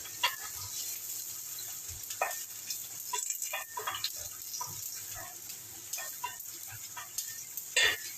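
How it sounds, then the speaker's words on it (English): Onion and garlic softening gently in a pan over low heat, giving a quiet, steady sizzle with occasional soft scrapes and taps of stirring, no voices. "With the onion and the garlic, I want to soften it up rather than fry it."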